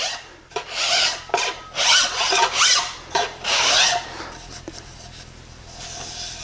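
A hand file tilted at 15 degrees trims edge banding flush against veneer, giving a series of dry raspy strokes, some long and some short, close up with no talking.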